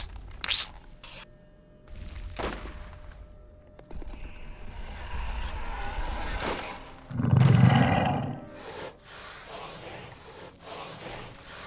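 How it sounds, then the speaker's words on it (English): Roaring bellow of Cromrax, a giant crab creature in Borderlands, swelling loud and low around the middle of the stretch amid scattered sharp game hits and impacts. "They really did nail the sound effects for Cromrax"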